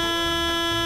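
A loud, sustained bus horn in the driving simulator game OMSI 2 blares continuously, a steady electronic-sounding tone held for the whole moment.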